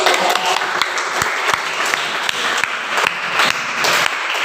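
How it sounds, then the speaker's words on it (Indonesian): An audience in a classroom gives a round of applause, with dense, lively clapping at a steady moderate loudness and individual sharp claps standing out throughout. "tepuk tangan dong"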